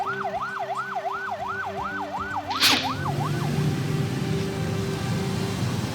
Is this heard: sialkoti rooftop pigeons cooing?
no